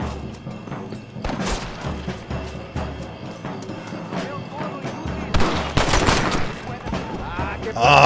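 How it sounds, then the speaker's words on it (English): Gunfire from the Western video game Red Dead Redemption: repeated shots and bursts crack through a busy game mix, with the loudest flurry near the end. "Who's shooting at me?"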